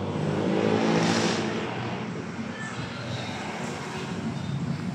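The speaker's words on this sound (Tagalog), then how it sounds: "papakinggan tayo sound check ng stock muffler ng 450 MT" A CFMoto 450MT motorcycle with its stock muffler runs steadily nearby, its exhaust giving a continuous rough drone that swells briefly near the start and then settles.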